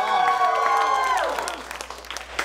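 A small group applauds and cheers while a voice talks over the start, and the clapping thins out toward the end.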